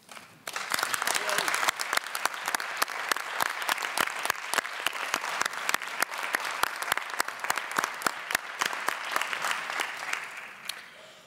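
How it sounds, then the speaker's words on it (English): A conference audience breaks into sustained applause, a dense wash of clapping that rises quickly, holds steady and tapers off at the end. "there should be another round of applause for the Spanish state and for Spain"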